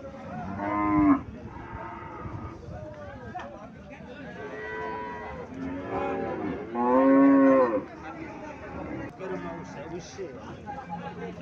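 Holstein Friesian cows at a cattle market moo repeatedly, with loud, drawn-out calls near the start and middle over a background of people talking and market chatter.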